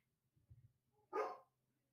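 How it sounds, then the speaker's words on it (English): Dogs barking upstairs in a house, heard as a faint muffled yip or two followed by one louder sharp bark burst, distant through the floor with no talk over it. "my dogs are barking upstairs"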